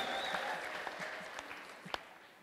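A church congregation claps in praise, scattered and fairly faint, with a few sharper individual claps and a high sustained vocal tone that may be ululation drifting over the clapping.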